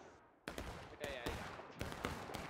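Gunfire in the Civil War shooter War of Rights on the Harper's Graveyard map: a string of sharp, loud musket-like shots at irregular intervals, some close and some more distant, over a constant battlefield din with voices.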